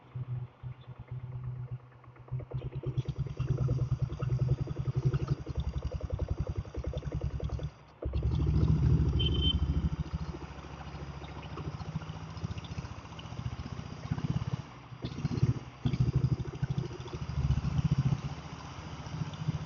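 Diesel Royal Enfield Bullet motorcycle kick-started and running, a steady low engine thump with a brief break near the middle before it picks up again, close and loud with no talk.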